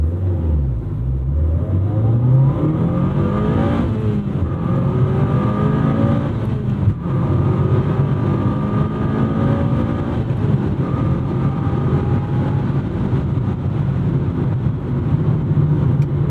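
A car engine roars loudly and continuously, its pitch climbing through repeated gear changes as it accelerates hard from inside the vehicle.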